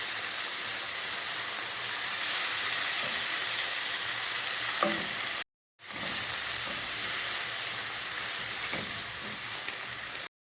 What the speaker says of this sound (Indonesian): Aduk sampai tomatnya menyusut.